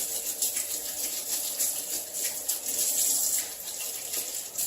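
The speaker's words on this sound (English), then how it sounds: "Okay, I got my hands washed up." A kitchen tap runs in a steady, close, splashing stream while hands are washed beneath it, the water's rush shifting slightly as the hands move through the flow.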